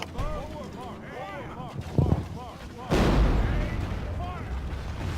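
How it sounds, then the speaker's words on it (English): Several heavy booms of cannon fire in Medieval II: Total War, one after another, with a sustained rumbling blast near the end and game sounds in between. "we're gonna watch these guys load in the cannon and fire it off"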